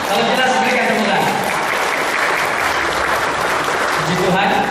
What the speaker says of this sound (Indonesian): Kalau jelas berikan tepuk tangan.